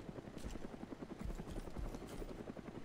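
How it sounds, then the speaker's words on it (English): A helicopter in the video game DayZ thuds overhead with steady, rapid rotor beats over a low engine drone, loud and continuous throughout. "have no freaking idea where the helicopter is."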